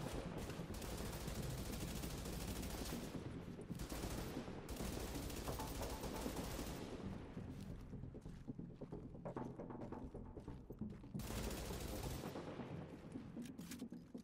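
An LMG in The Division fires in long, sustained automatic bursts, a dense rattling roar with brief gaps between bursts, heard alone without talk.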